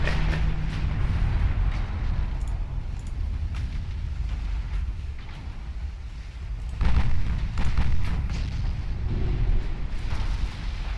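Torpedo hits and explosions on warships in the naval game Ultimate Admiral Dreadnought, heard as a steady, heavy low rumble of blasts with a louder surge midway, rolling on without pause and with no talk.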